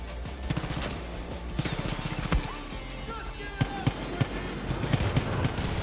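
Far Cry 5 video game gunfire, rapid bursts of automatic shots followed by sharp single cracks, loud and close, with a player talking over the fight.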